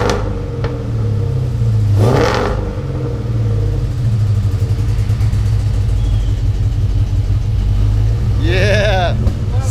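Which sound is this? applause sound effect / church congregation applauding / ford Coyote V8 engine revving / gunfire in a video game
ford Coyote V8 engine revving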